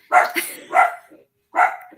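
A dog barks in three sharp, loud bursts close to the microphone, two in quick succession and a third after a short pause, in an indoor setting during a skincare product demonstration.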